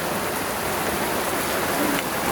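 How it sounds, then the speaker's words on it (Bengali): Steady, dense rain pouring down and hissing on surfaces, close and loud throughout with no voices. "বৃষ্টি এমনভাবে শুরু হয়েছে যে এখানে বসে আর খাওয়াও যাবে না"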